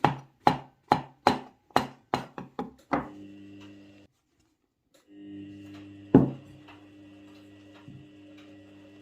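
A knife slices a mushroom on a wooden board in quick, regular sharp knocks, about eight in a row, then a pause and one more louder chop, with a faint steady hum underneath and no talking.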